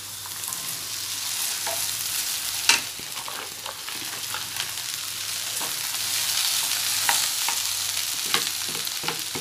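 Onions and curry leaves sautéing in a pan for okra poriyal, a steady soft sizzle with occasional scraping stir strokes and utensil clinks, close and without talk.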